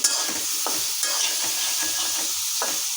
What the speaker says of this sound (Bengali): আর এখন আমি একটু পর একটু এভাবে নাড়া দিতে হবে, তা না হলে কিন্তু পুড়ে যেতে যাবে